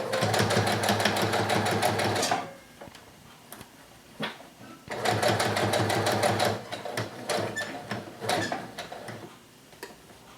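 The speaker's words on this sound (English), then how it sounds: "we're going to sew all the way through here to the other side" Sewing machine stitching through a shirt collar to the other side, running in two steady bursts of rapid, even needle clatter separated by a short pause filled with faint handling clicks.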